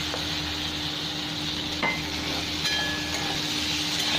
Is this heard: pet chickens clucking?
no